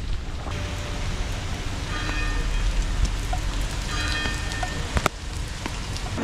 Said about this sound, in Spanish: está volviendo a llover y ahora está lloviendo fuerte